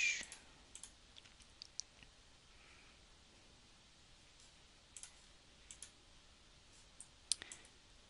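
A computer mouse clicks faintly and sporadically in a quiet room, single light clicks spaced a second or more apart, with a few soft rustles.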